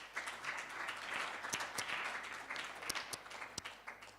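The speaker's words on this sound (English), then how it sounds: "Maybe another round of applause." Audience clapping at a research conference, a faint, steady round of applause with a few sharper individual claps standing out near the end.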